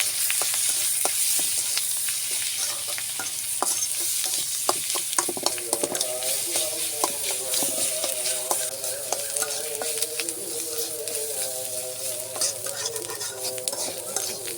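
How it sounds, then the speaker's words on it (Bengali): A mashed filling fries in ordinary cooking oil in a pan on a clay stove, with a steady loud sizzle throughout and repeated scraping and clattering from stirring. "এখন আমি একটু তেল দিয়ে দিব, রান্নার রেগুলার তেল। এটা দিয়ে একটু ভালোভাবে ভেজে নেব।"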